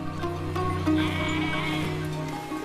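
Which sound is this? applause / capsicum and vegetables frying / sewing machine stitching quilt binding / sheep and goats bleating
sheep and goats bleating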